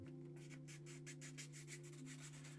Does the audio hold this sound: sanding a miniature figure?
yes